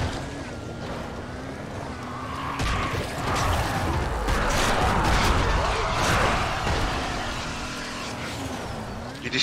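Cars driving in the video game Dying Light The Following, a steady engine drone with rising revs and rattling, scraping mechanical noise that swells in the middle and then eases off.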